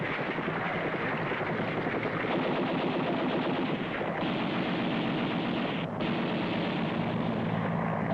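Sustained gunfire rattles loudly over the steady roar of a helicopter during a Vietnam War medical evacuation, with wind buffeting the microphone throughout.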